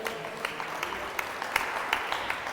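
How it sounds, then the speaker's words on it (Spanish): A church congregation applauds during a sermon, a steady dense wash of clapping with a few sharper slaps standing out, filling the short stretch without a break. "dele fuerte el aplauso al Señor."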